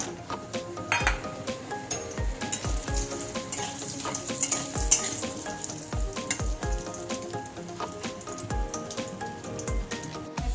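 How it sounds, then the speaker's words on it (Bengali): Lentil dumplings (bori) frying in hot oil in a pan, a steady sizzle punctuated by repeated sharp clinks and taps of a utensil stirring against the pan at irregular intervals. "এবার কটা বড়ি ভেজে নেব"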